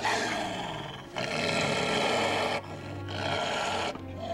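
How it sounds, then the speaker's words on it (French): A white she-wolf in a snowy setting growls in low, rumbling bursts, three drawn-out snarls separated by brief breaks, close and fairly loud, with no one talking. "Tu lui fais peur. C'est pour ça qu'elle grogne."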